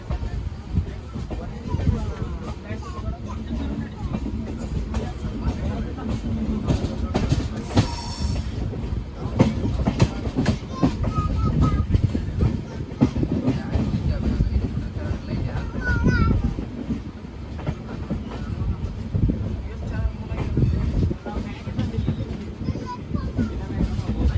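The Mahalaxmi train runs from Kolhapur toward Mumbai with a loud, steady rumble of the carriage, rhythmic clacking over rail joints and brief squeals from the wheels, while passengers talk in the background.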